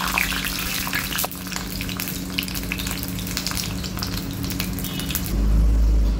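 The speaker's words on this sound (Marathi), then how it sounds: "मंद गॅसवर लसूण लालसर होईपर्यंत तळून घ्यायचं आहे आपल्याला।" Seven or eight garlic cloves fry in peanut oil in a wok over low heat for groundnut chutney, giving a loud, dense, continuous sizzle with a few utensil clicks, heard close up.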